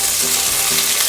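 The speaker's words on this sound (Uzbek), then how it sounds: "Baland olovda qovuravamiz" Chicken brisket sears in a pan on high heat, giving a loud, close, unbroken sizzle with dense spitting crackle and no voices.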